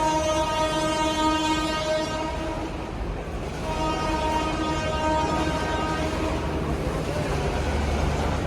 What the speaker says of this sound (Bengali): এই পাশটা কিন্তু ডবল ট্রেন, একটা আসতেছে একটা যাইতেছে।